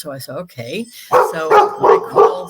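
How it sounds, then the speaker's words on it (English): A dog barks four times in quick succession, loud and close, right after a person finishes speaking. "sorry about the dog."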